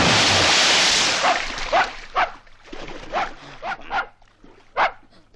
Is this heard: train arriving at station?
no